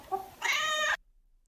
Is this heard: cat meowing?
yes